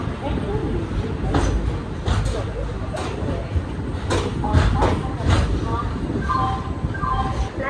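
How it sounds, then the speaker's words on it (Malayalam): The Maveli Express passenger train pulls into Mangaluru Central station, giving a low rumble with rail clicks and passing thumps in the middle distance, while people talk over it and brief tonal chimes sound near the end. "8:04 നമ്മുടെ മാവേലി എക്സ്പ്രസ് ആയിട്ട് ഇവിടെ മംഗലൂരു സെൻട്രലിൽ കയറി."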